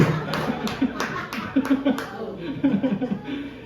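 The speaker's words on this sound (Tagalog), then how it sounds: "Yung mga tulog po, pumalakpak." Scattered clapping from a church congregation, roughly a dozen separate claps in uneven bursts, mixed with chuckling and laughter and a voice speaking over it.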